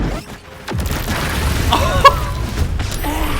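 Explosive barrels blow up in a hardcore-mode video game, a loud boom with a crashing burst, followed by sustained rumbling debris noise.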